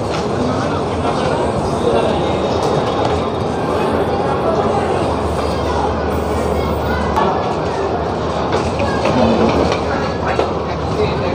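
Train 13246 Capital Express rolling into New Jalpaiguri Junction, a steady loud rumble with faint rhythmic clacking throughout, and voices audible in the background.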